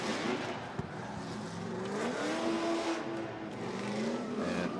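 A drift race car at a Formula Drift knockout qualifying round revs and warms its tires in the distance, engine pitch climbing and falling in sweeping waves over steady track ambience.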